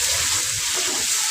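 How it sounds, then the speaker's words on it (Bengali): Water pours steadily into a cooking pot of sautéed potatoes, a continuous close splashing stream with no talk over it. "পানি, দিয়ে দেবো।"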